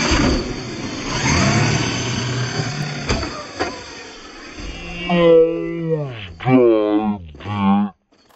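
Losi 5T brushless RC truck with a Castle 2028 800kv motor and Hobbywing Max5 on 8S LiPo, driven outdoors on cold ground: a loud, rushing motor and drive noise for about five seconds, then someone talks over a quieter background.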